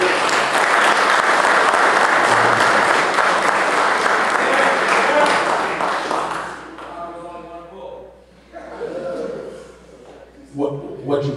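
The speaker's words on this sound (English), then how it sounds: "Y'all need to give them a round of applause." An audience applauds a university football team's guests, with loud, dense, sustained clapping for about six seconds. It then thins out and fades as a voice begins speaking.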